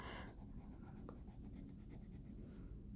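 Colored pencils scratching across paper while coloring illustrations of Aesop's fables, a close, continuous dry rasp with small stroke pulses and no speech.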